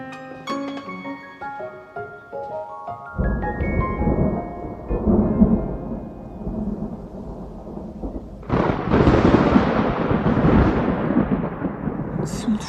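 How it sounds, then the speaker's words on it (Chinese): Sudden thunder and rain in a Chinese drama scene: a short musical passage gives way to a deep rumbling thunderclap, then a loud, dense downpour bursts in and continues steadily. "怎么突然打雷了？"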